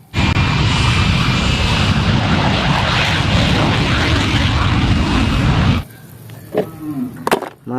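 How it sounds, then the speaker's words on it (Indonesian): A toy fighter jet plays a loud, roaring engine sound effect that runs steadily for several seconds and then cuts off abruptly, followed by quieter handling noises and a voice. "Ada pesawat tempur."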